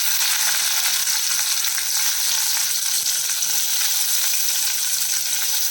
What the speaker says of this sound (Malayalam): നമ്മൾ എടുത്ത് വെച്ചിരിക്കുന്ന വെണ്ടയ്ക്ക ഇതിൽ ചെറുതായിട്ടൊന്ന് ഫ്രൈ ചെയ്തെടുക്കാം